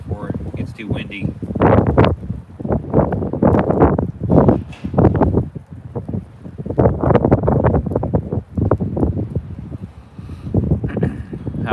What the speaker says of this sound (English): Got a front blowing in.